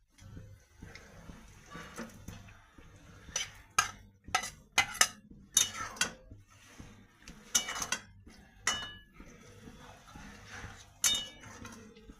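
A spoon scrapes and knocks against a pan as paneer is gently stirred into chickpea masala, giving irregular clinks and scrapes at close range over a low simmer, with no talking.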